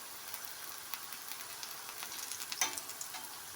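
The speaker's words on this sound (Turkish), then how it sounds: "şimdi altı da üstü de kızarana kadar pişireceğim." Potato pişi dough frying in a pan of oil gives a steady, close, hissing sizzle throughout, with one brief sharper pop near the end and no voices.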